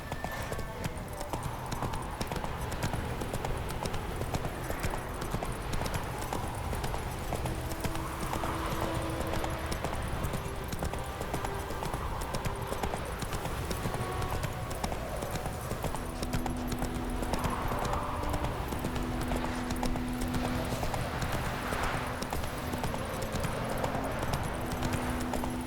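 Steady clip-clop of horse hooves trotting along the road to Vizima in a fantasy video game, a continuous rhythmic clatter close up with faint ambient sound and a brief whinny-like tone.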